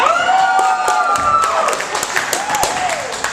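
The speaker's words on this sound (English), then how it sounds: "Can I get a round of applause for sexual promiscuity?" An audience at a burlesque show claps in a dense burst of applause that gradually thins out, with voices and a few cheers carrying over the clapping.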